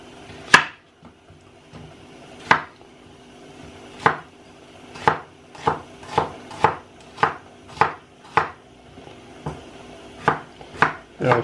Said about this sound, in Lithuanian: Dabar susipjaustam svogūną.